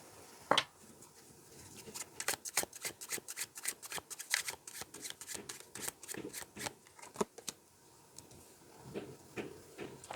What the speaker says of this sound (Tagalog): may construction po sa kabilang bahay